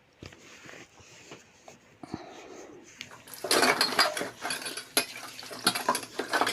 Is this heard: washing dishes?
yes